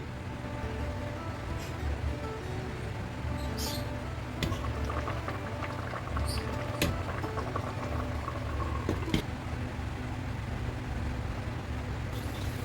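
Squash and string beans in coconut milk simmer in a covered pot with a continuous low bubbling and faint popping ticks, steady and close throughout, with no voices.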